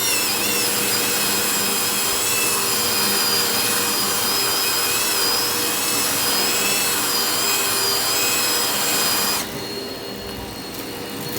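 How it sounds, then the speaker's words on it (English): A power drill agitating spotter into restaurant carpet whirs continuously at a steady pitch, then cuts out abruptly near the end, leaving a quieter hiss. "and then we'll use the drill."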